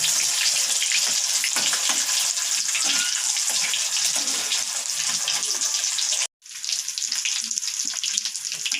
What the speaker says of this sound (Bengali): হালকা লাল লাল করে আমি ভেজে নেব